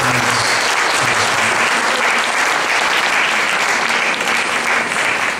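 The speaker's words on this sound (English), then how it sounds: "A big round of applause for all these organizers." A crowd claps loudly and continuously, a dense steady wash of applause with no break.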